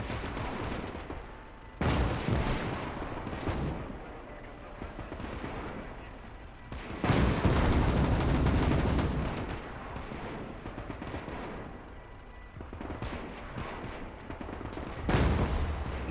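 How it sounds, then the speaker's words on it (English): A field gun fires in a war video game, loud booming discharges at irregular intervals, each followed by a long rolling decay. Lighter gunfire crackles in between against a steady low rumble. "it's definitely a field gun"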